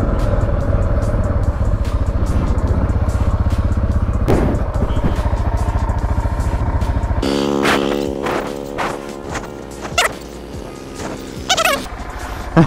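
An adventure motorcycle rides a trail, its engine droning steadily and loud for the first half, then giving way to choppier revving and bumps with voices talking over it.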